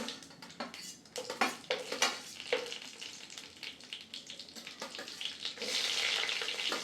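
Mustard seeds, cumin and a few cashews frying in hot oil give a steady close sizzle with scattered crackles and pops, the hiss swelling louder toward the end.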